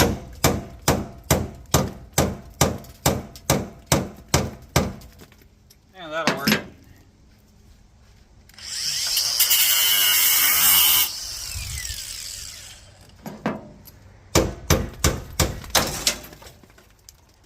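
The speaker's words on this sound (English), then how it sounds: "we're going to use our Walmart air hammer" A cheap pneumatic air hammer rattles in rapid metallic bursts on a van's frame, then a long loud hiss of air, then another quick run of hits; someone briefly speaks.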